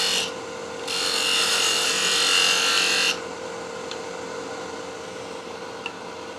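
A salvaged wood blank for a tool handle being cut down with a hand tool, giving a loud, steady rasping stroke for about two seconds, then quieter scraping and a couple of small taps.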